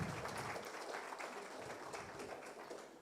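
Audience applause at an engineering and computing conference: a dense, even patter of many hands clapping, steady and fairly faint across the whole stretch.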